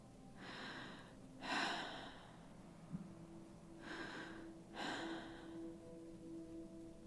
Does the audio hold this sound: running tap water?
no